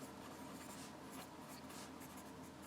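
Marker or chalk scratching steadily across a board during a math lesson, a quiet continuous writing rub with no speech over it.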